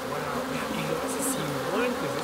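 Dense humming buzz of honeybees swarming around beehives at an outdoor school apiary, a steady close drone with wavering pitch filling the whole moment, no talking.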